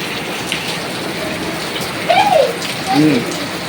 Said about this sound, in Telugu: వర్షం ఫుల్గా వస్తుంది